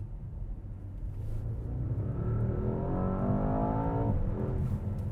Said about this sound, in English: this does do crackles and pops here and there